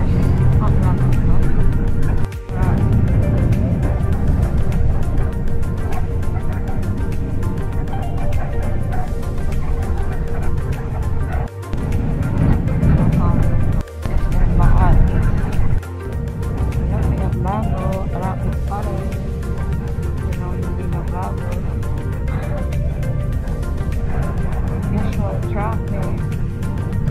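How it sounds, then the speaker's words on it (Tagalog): Road traffic on the commute from Imus to Makati rumbles as a steady engine and tyre drone, with vehicles idling and passing close by and occasional sharp knocks, while a person talks over it throughout. "So yun, traffic."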